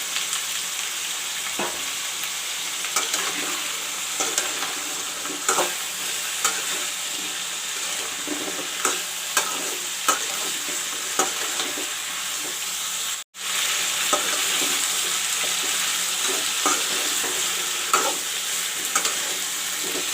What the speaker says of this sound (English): I will fry the potato and drumsticks for 2 minutes